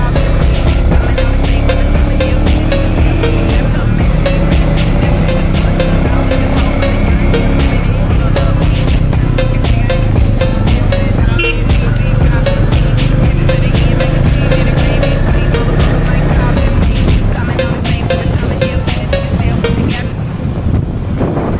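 A Royal Enfield Classic 350 BS7 E20 motorcycle revs and pulls away on a ride, its loud, close, throbbing exhaust building steadily and dominating throughout, with a brief drop near the end.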